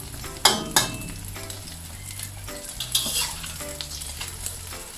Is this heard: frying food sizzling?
yes